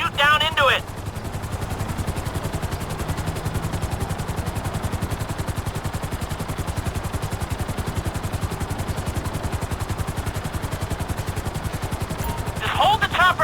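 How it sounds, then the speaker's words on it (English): Military helicopter hovering in a video game campaign mission over an excavation site, a steady loud rotor drone with a continuous rapid rattle throughout, brief radio-style voices at the start and end. "I need you to hold the chopper above it while I take a look."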